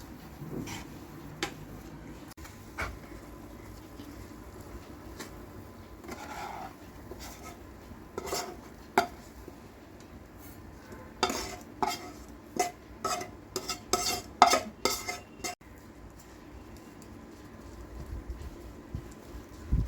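A sweet rice-flour mixture is spread onto a ghee-greased plate, soft scraping and repeated light taps of a utensil against the plate, faint and close, growing busier toward the middle.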